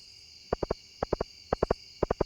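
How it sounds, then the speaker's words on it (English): Night crickets in Stardew Valley chirp in clear triple-pulse bursts, four groups evenly spaced about half a second apart, close and distinct over a steady high-pitched hum. "We got the nice lights or noises from the bugs at night, the crickets."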